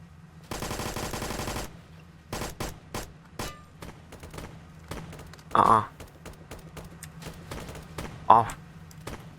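Gunfire in the Roblox game Blackhawk Rescue: a fast burst of automatic fire followed by scattered single shots and short bursts, mixed with voices talking over the action.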